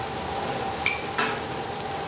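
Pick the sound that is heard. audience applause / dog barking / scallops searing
scallops searing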